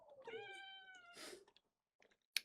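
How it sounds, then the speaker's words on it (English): A four-month-old kitten gives one clear, drawn-out meow close by, followed by a brief breathy rustle and a few faint clicks in a quiet room. "Don't know if that picks up the meow."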